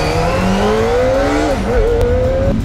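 Kawasaki Ninja ZX-25R motorcycle with its stock exhaust, a loud high-pitched four-cylinder engine note climbing steadily in revs, dipping briefly, then rising again, heard close and continuous.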